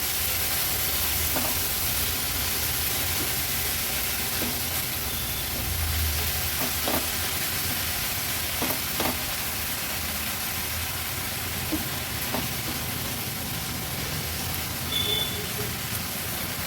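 Chicken mince cooking in a pan while being stirred, a soft, steady sizzle with occasional faint scrapes and taps from stirring, quiet and continuous.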